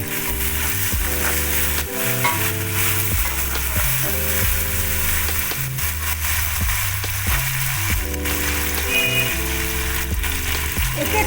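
Spiced jackfruit frying in oil, a loud, steady close sizzle that keeps going the whole time, with occasional stirring clatter and a faint melodic tune underneath.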